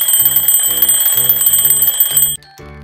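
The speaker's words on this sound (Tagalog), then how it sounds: "he heard the alarm clock" An alarm clock rings loud and close in rapid repeating bursts of metallic bell clatter for about two seconds, then cuts off abruptly, leaving a fading hum.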